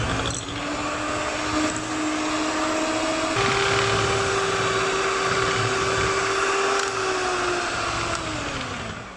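An electric mixer whirs steadily while beating butter, sugar and vanilla essence into a cream, a loud continuous motor drone with slight pitch shifts partway through.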